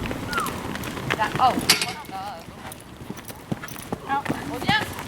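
Horse hooves clip-clop during a hunter riding lesson, a run of quick, fairly close hoof beats under continuous instructor talk in French, with occasional faint whinny-like calls.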